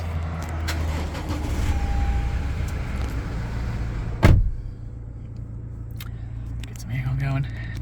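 A 2018 Toyota LandCruiser Prado GXL starts with a short loud burst as the engine catches, then settles into a low steady idle hum inside the cabin.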